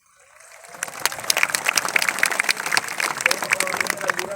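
An audience at a large religious gathering in Pekanbaru breaks into applause, rising from silence into dense, steady clapping that carries on to the end, with a voice over it.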